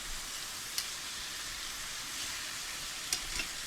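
Beef cooking in a pan for French dip gives a steady, loud, continuous sizzle, with a couple of brief clinks as the meat is flipped.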